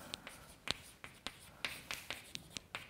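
Chalk or marker strokes on a lecture-hall board tap and scratch in short, quiet bursts, about a dozen separate strokes in quick, uneven rhythm with no talking over them.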